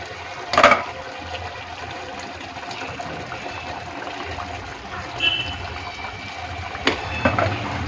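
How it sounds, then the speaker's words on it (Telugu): Water pouring into a pot of country chicken curry on the stove, a continuous faint splashing and gurgling stream with a couple of louder bumps, without clear talk. "తగినంత వాటర్ వేసుకొని 2 గ్లాసులు నీళ్ళు పోసుకుంటాము"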